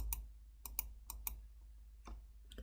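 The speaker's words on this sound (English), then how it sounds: "Let's type in" Light clicking keystrokes on a computer keyboard, a few isolated taps and short clusters with pauses between them, close and quiet in an otherwise silent room.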